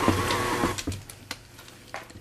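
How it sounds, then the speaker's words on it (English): Stand mixer running with its paddle attachment through a wet, 85% hydration pizza and ciabatta dough, giving a steady motor whir with a faint hum and a few knocks and clatters near the start. "So, turning the mixer on,"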